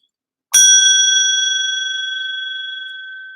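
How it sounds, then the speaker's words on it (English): A single bright bell strike rings out loud and close, its clear metallic tone sustaining and slowly decaying for about three seconds with nothing else around it. "Who rang that bell?"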